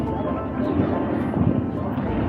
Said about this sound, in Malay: Itu dia kapal terbang yang baru berlepas.